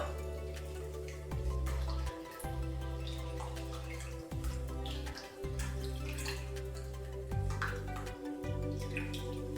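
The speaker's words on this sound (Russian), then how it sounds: "Добавляю 325 миллилитров холодной воды" Cold water, 325 millilitres, poured for a lemon tiramisu, with a steady running stream that breaks off and restarts several times, fairly quiet and without talk.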